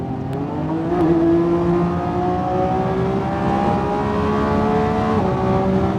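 A Lamborghini V12 accelerates in Italy, its engine tone climbing steadily in pitch through a sustained pull, loud and continuous from inside the cabin, then easing slightly near the end.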